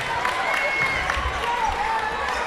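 A basketball crowd at a district tournament championship game gets loud, with a dense roar of cheering filling the gym while a commentator talks over it.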